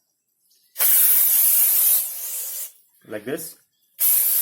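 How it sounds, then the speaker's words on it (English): 3M high power brake cleaner sprayed onto car brakes and disc pads during a brake pad replacement on a Renault Duster: a loud, close hissing blast lasting about two seconds, a short voice, then another spray burst at the end. "you can use this 3M high power brake cleaner agent"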